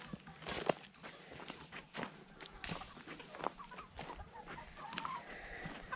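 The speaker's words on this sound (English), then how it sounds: "And there is a chicken out." An escaped layer hen scurries about, giving scattered clucks mixed with quick footfall-like scuffs and rustles, faint and fairly close, spread in irregular bursts with quiet gaps between.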